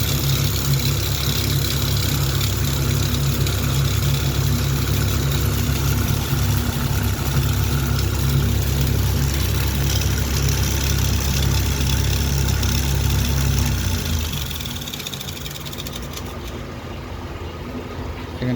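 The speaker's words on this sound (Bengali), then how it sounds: "কয়েলটা ওয়াইন্ডিং করছি কীভাবে সম্পূর্ণ দেখতে থাকো।" A coil winding machine runs steadily while winding a 24-inch high-speed ceiling fan coil, giving a loud, continuous motor hum with a rhythmic low whir. It drops off and quiets near the end, with no talking.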